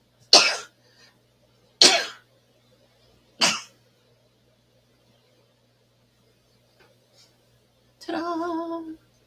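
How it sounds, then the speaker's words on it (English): Three sharp, explosive sneeze-like bursts come a second or two apart, close and loud, followed after a pause by a short voiced sound. "Oh, I'm going to sneeze, you guys."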